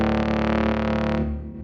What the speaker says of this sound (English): The reverb's on, so that gives it a little bit more of that ring out.